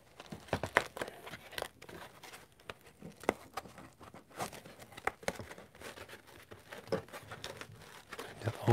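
Cut foam insert being pulled out of a Dewalt TSTAK case, with close, irregular rubbing, crinkling and tearing scrapes and a few sharper snaps.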